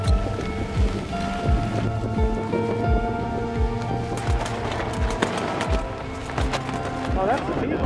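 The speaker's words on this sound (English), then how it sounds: "Rain and wind." Steady rain with gusting wind on a canoe trip on the Thelon River, a dense wash of noise throughout, with people talking over it.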